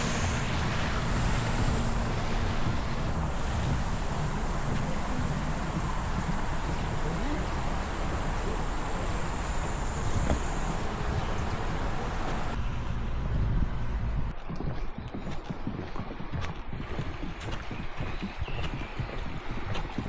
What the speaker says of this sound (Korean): 벌써 계곡의 물소리가 시원하네요